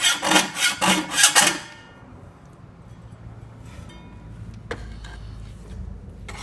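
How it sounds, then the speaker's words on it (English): A thin piece of metal being sharpened on one side to make a hoe blade, heard as a few quick rasping strokes up close, then mostly quiet with faint scrapes. "Sharpen it only on one side. Because you're making a hole."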